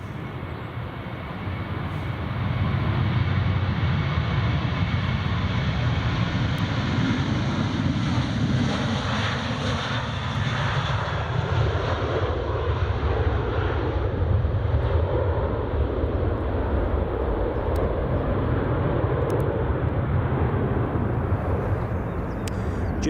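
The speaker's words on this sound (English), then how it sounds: "Here goes the Ryanair." A Ryanair airliner passes near an airport runway at Edinburgh, a broad roaring rumble that swells and holds loudly for over twenty seconds with no talking over it.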